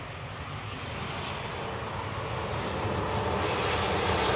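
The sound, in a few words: aircraft engine, easyJet plane at Manchester Airport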